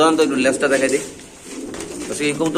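Pigeons, including King pigeons, coo in soft, repeated throaty bursts, close by, with a brief lull midway before the cooing resumes.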